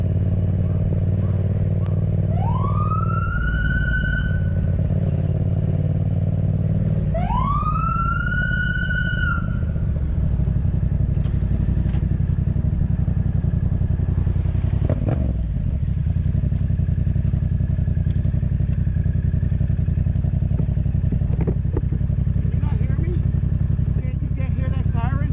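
Police siren on a road where a motorcyclist has been pulled over, with two rising wails early on over a steady engine and road rumble, loud and close, followed by a sharp clatter and continued traffic noise.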